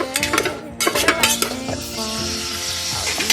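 Tofu pieces fry in a pan for a stir-fried pechay dish, clattering and scraping against the metal as they are stirred, with a steady sizzle running underneath. Utensil clinks come at a busy, uneven rhythm, loud and close.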